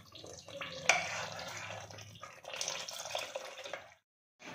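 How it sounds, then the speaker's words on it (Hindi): Water goes into a pan of chicken angara with a splashing, sizzling pour that starts with a sharp hit, runs unevenly for a few seconds and stops abruptly, faint and close. "मुझे इसमें थोड़ा सा मैं पानी ऐड कर रही हूँ"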